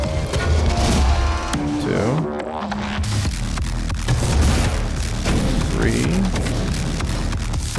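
Heavy weapon blasts and explosions from the Doom video game boom in a fast run, with a few firing bursts spaced between them. A voice speaks over the gunfire, counting the shots aloud.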